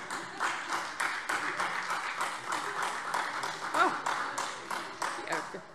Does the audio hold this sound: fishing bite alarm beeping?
no